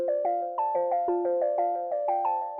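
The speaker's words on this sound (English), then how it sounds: "So the next thing I have here is this echo," A synth melody, distorted by drive and run through an echo, plays alone in evenly spaced bright plucked notes whose repeats trail behind each one, steady and fairly soft throughout.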